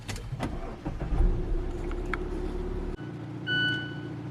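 A 2021 Mazda CX-5 Turbo engine cranks and catches, then settles into a steady idle close by, followed by a brief soft chime.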